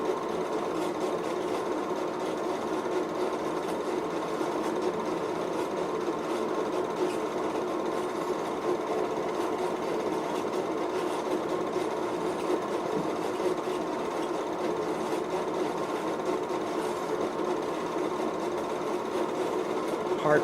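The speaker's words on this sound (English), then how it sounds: "An old case tractor." An old Case tractor engine runs steadily for the whole stretch, a continuous mechanical chatter with a busy, rattling texture at an even, moderate level.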